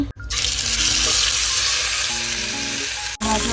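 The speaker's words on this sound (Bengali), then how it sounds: "10 মিনিট রেস্টে রাখার পর এখন এটাকে আমরা ভেজে ফেলবো।" Marinated chicken frying in hot oil, a loud, continuous close-up sizzle broken by two brief abrupt dropouts.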